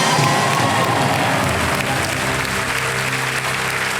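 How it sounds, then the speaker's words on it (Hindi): A studio audience on the Hindi quiz show Kaun Banega Crorepati breaks into loud, dense applause that stays steady and close for the whole stretch, with no talking over it. "तालियां बज जाएं जोरों से।"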